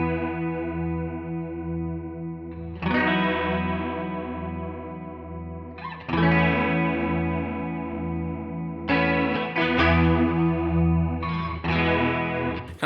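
Electric guitar through an HX Stomp chorus set to a sine wave shape, strummed chords ringing out in several sustained phrases with a pulsing, wavering shimmer, close and clear without talk.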